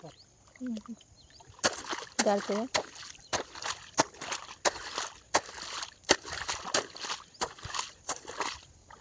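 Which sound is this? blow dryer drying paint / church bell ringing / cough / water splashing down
water splashing down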